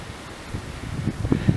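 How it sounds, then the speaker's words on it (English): Strong gusting wind in a snowstorm while building a shelter, a steady broad roar buffeting the microphone and rising in bursts toward the end. "So now the wind's picking up again."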